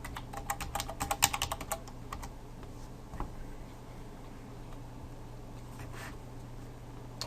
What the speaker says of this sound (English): So it's just asking us to type in the name of our app just to confirm that we want to do this.